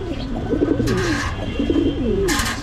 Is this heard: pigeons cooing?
yes